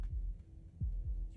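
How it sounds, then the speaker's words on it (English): A heartbeat in the game Slay the Princess sounds as three deep, muffled low thumps over a soft steady hum, spaced unevenly and fairly quiet. "That was the sound of a heartbeat, followed by another, and another."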